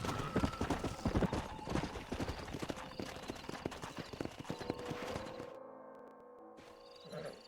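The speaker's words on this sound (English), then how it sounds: "We got some fine horses" Horse hooves in the video game Red Dead Redemption clatter rapidly and loudly at first, then slow and fade, followed by a quiet pause and a short snort or whinny near the end.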